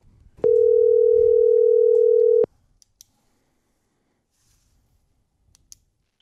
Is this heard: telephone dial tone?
yes